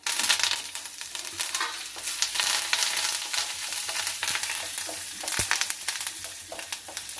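Chana dal, urad dal, a dried red chilli, mustard seeds and dried curry leaves tempering in hot oil for a cucumber chutney, giving a steady close sizzle and crackle with sharp pops and occasional stirring scrapes, with no voices.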